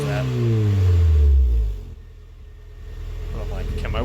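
A car engine revs up loudly and close with a rising, then falling tone before dropping away, after which faint engine noise continues as voices talk underneath.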